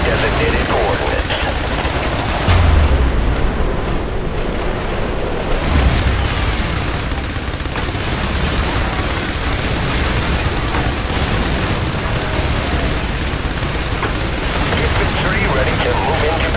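Airstrike explosions and gunfire rumble through a harbor battle in the IS Defense video game, a dense, continuous roar of blasts and shots that stays loud from start to finish.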